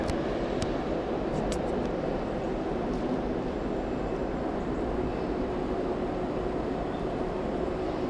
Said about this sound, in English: Both trains there running London Liverpool Street to Norwich.